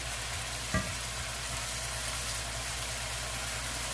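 Beef sizzles as it stir-fries in a pan with vegetables and pasta, a steady loud hiss throughout with a single clack of a utensil early on.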